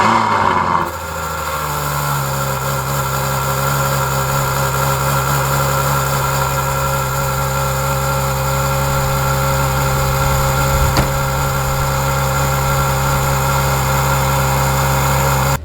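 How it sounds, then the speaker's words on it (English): A Ferrari FF engine idles after a cold start, a steady, loud, close mechanical hum with a low throb that holds even throughout, with no talking. "Got a very good cold start"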